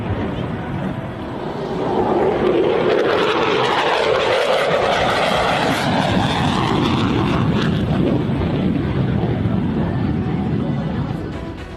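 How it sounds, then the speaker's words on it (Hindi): Indian fighter jets patrol over Pangong Lake, a loud continuous roar of jet engines rising in after about two seconds and holding steady with a broad rushing wash, no voices. "उसी दिन चीन के जवाब में भारतीय लड़ाकू विमानों के पैंगोंग लेक के ऊपर पेट्रोलिंग का वीडियो भी सामने आया।"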